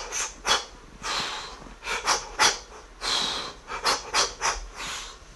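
A voice imitating a broken, interrupted breath: a series of close, breathy puffs and gasps in uneven bursts, each exhale chopped into short pulses.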